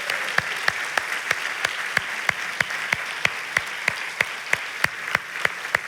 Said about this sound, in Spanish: merecen un fortísimo aplauso.